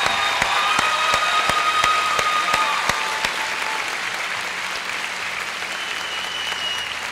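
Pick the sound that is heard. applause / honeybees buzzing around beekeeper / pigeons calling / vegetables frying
applause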